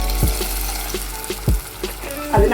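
Sizzling and bubbling rise from a pan of hot fish curry masala for a Kottayam-style fish curry, with a few soft stirring knocks spaced through the loud, steady frying hiss and no talking.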